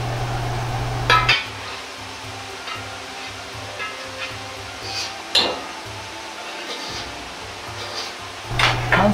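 A ladle clinking and scraping in a pan of oil as Sichuan peppercorns are scooped out, soft sizzling underneath with a few sharper metallic knocks.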